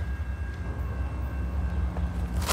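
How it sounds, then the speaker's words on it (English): A BNSF freight train passing nearby, a steady loud low rumble of engines and rolling wagons with no talk. "Are you listening when the train is coming? Yep, that's a freighter."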